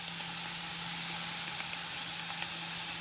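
Diced onions sizzle steadily in a pan for chili, a close, even frying hiss with a faint hum underneath and no talking.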